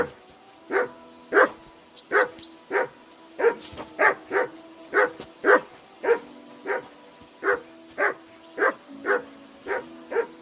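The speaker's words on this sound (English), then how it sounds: "Get that mutt of yours to stop barking, will you?" In the game Kingdom Come Deliverance 2, a dog keeps barking in a regular, rapid series of loud, close woofs, roughly fifteen over ten seconds, with no voices over them.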